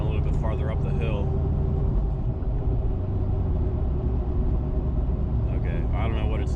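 A lifted Jeep Cherokee XJ labours uphill on a highway. A continuous low engine and road rumble fills the cabin while a person talks over it.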